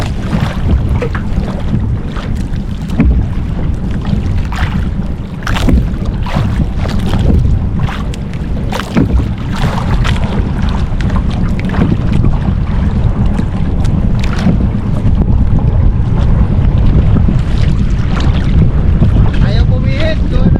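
Strong wind roars and buffets the microphone continuously, with rushing water and boat noise underneath and occasional distant voices.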